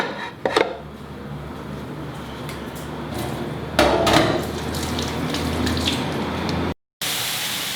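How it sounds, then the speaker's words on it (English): Tap water runs into a pot in a home kitchen while mackerel fish cutlets are being prepared. The flow is steady and close, with a few clanks of cookware and a brief cut near the end. "this is the water I will fill."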